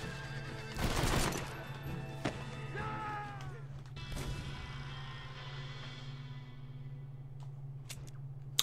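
A horse in the video game Red Dead Redemption lets out a loud, close whinny that trails off, with hoof clip-clops and a steady low game hum beneath.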